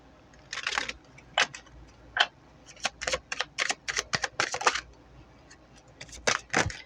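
A deck of tarot cards is shuffled by hand in close, dry bursts of papery riffles and flicks, irregular clusters of crisp card slaps separated by short pauses, with no voices.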